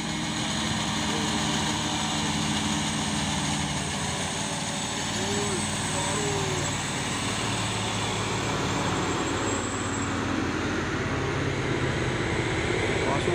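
Several trucks, including an Isuzu box truck and 6x2 Soren trucks, labour uphill with a continuous low engine drone that holds steady throughout at moderate distance, with faint voices underneath.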